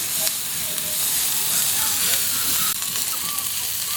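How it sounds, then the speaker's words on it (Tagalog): Garlic and onion aromatics sizzling steadily in hot oil while being sautéed for a chicken dish, a constant close hiss and crackle with faint stirring underneath. "Siguro gisa natin ng mga 1 minuto or 90 seconds para lumabas talaga yung lasa ng mga aromatics natin."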